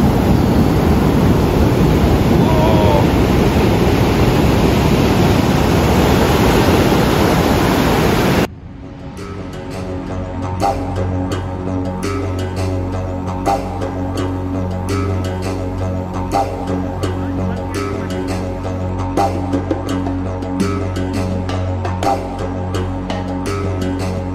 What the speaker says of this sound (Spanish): miren estas olas tremendas.